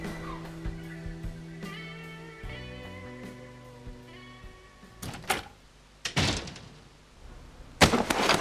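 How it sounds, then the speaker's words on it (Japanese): A door opens in the video game 428 Shibuya Scramble, heard as a few short scraping, clattering bursts late in the clip after a stretch of tonal game music. "編集部の扉を開くなり千秋が駆け寄ってきた"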